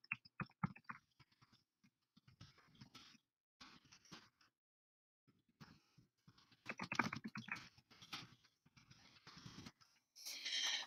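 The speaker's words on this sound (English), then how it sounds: "begin typing my answer" Keys clatter on a computer keyboard in quick bursts separated by short pauses, close and fairly soft, with no voices.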